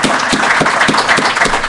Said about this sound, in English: let's give a round of applause to Commissioner Olhausen.